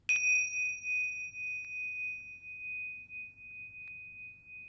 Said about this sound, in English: Today I want to show you the chimes I normally use in yoga class.